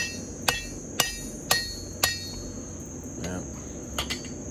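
Hot steel is hammered on an anvil while forging a war hammer, a series of sharp, ringing metallic blows at a steady pace, close and loud, with a few lighter taps near the end.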